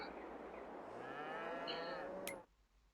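Cow lows once in the Farming Simulator 22 video game, a long, rising moo close by that ends in a brief sharp click, with no talk.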